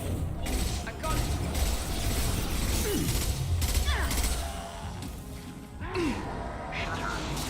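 Mechanical shutter grinding shut in Mass Effect 2, a steady clanking, ratcheting churn with scraping sweeps layered over dense game ambience, continuous and fairly loud throughout.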